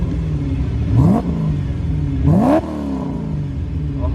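A V8-swapped Porsche 944 Turbo engine revs twice in sharp blips, each rising quickly then dropping back to a steady, rumbling idle close by.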